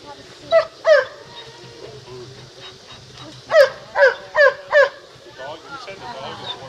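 Several dogs at a picnic bark and yelp in short bursts, a pair of sharp barks followed by a quick run of four louder ones, with a faint whimper-like tone and people talking softly in the background.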